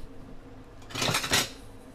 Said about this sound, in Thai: จัดการคั่วเลยนะคะ